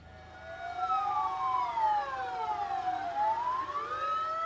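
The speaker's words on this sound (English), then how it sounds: "The sound of sirens and horns marked the start of a moment of stillness and reflection in the country" Several sirens and horns sound together across Myanmar to mark a moment of mourning after a 7.7 magnitude earthquake, long overlapping wailing tones that rise and fall steadily at moderate distance, with no voices.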